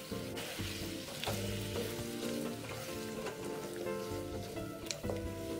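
Pumpkin and canned braised peanuts stirred and sizzling in a pot, with steady frying crackle and scraping stir strokes throughout, close and fairly loud, no talking.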